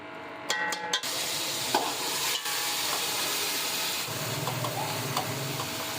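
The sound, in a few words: frying garlic ginger paste on the stove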